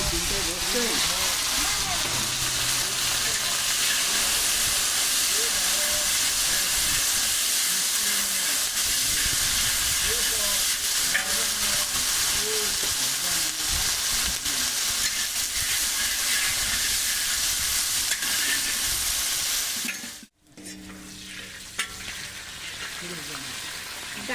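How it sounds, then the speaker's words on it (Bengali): Cauliflower frying in a pan, a steady loud sizzle and hiss with faint stirring clatter throughout, briefly cut by a sharp drop near the end before the sizzle resumes. "এবার ভেজে নিচ্ছি ফুলকপি"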